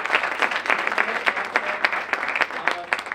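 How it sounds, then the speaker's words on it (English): A comedy show audience claps steadily for a few seconds, a dense patter of many hands with a faint murmur underneath. "Let's give him a round of applause."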